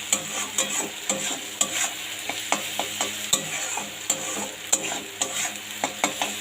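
Potato pieces fry in a pan, crackling steadily under a rapid run of sharp spatula scrapes and taps against the metal, close and with no talk.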